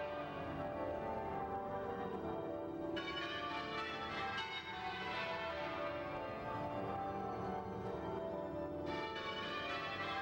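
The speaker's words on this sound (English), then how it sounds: "These muffled bells are designed to indicate a solemn moment of mourning." Muffled church bells toll slowly for a mourning procession at Princess Diana's funeral, dull repeated strikes under a steady hum of distant crowd and ambience, no speech.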